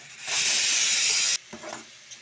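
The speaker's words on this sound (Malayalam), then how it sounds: "അരപ്പിട്ട് നന്നായി ഇളക്കണം" Papaya thoran with ground coconut paste is stirred in a hot pan. A loud, steady steaming sizzle lasts about a second, then cuts off and gives way to a few soft scrapes.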